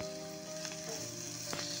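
Ginger, garlic and green chili paste fries in a pan for masala pav, giving a steady close sizzle with faint stirring scrapes and no talk.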